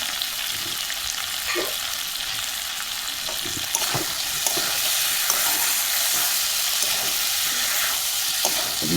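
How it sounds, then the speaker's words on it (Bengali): Vegetables seasoned with turmeric and salt sizzle steadily in a hot pan for several seconds, with soft scraping stirs and faint spatula taps over a constant close hiss and no talking. "ভাজা ভাজা হয়ে যাবে বন্ধুরা"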